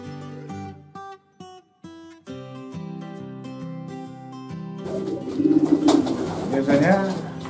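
Domestic pigeons coo in a loft in deep, repeated throaty phrases, fairly close and clear, then the cooing is joined by louder overlapping coos and rustling toward the end.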